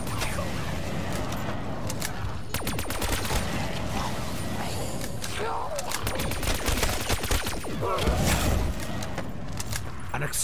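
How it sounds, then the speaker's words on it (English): Explosions and gunfire in a video game, a dense series of sharp bursts and rattling blasts, with a heavier boom near the end, loud and close without clear talk. "An explosion of such magnitude should surely have injured us too."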